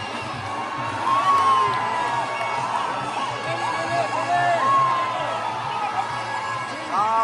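Crowd cheering and shouting at the Aai Raiba Devi village yatra procession, where very tall Khandoba poles are raised. The sound is a dense, steady roar of many voices with excited whoops and calls rising over it.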